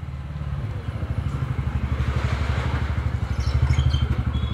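A motorcycle engine idles close by, with a steady, rapid, even pulsing putter at moderate loudness and faint clatter on top.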